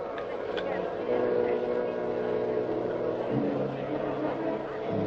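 A steady motorboat engine drones throughout, loud and close, with a voice speaking briefly over it.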